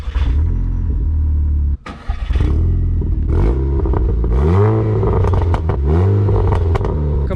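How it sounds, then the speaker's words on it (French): A stage 3 Volkswagen Scirocco R rumbles loud and close, cutting out briefly, then rev blips rise and fall with sharp crackling pops and bangs from the exhaust. "Comme vous avez pu voir, il y a un petit pop and bang."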